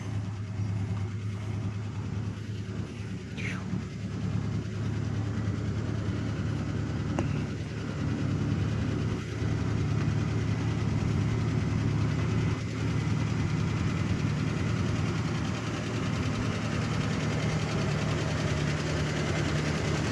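A 1975 AMC Matador with a 304 V8 idles steadily up close, its low engine drone carrying a fast, even ticking from a suspected exhaust leak or lifter tap, with no talking.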